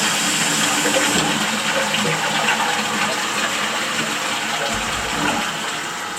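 A toilet flushes after its flush button is pressed, water rushing and gushing loudly and close, then settling into a steady refilling hiss that tapers slightly at the end.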